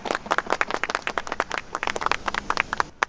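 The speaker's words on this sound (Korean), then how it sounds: "박수 한번 부탁드리겠습니다." A small group at a pre-work construction safety briefing claps, with irregular, fairly close hand claps across about three seconds and no talking.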